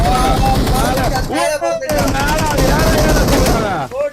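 Rapid gunfire in the PUBG battle-royale game crackles in loud, dense bursts, with excited voices talking over the shooting almost throughout.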